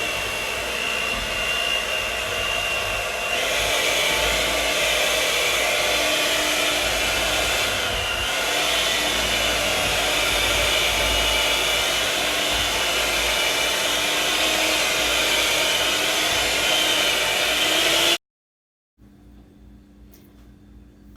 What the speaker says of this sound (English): now I'm going to take the cake mixer and get all the lumps out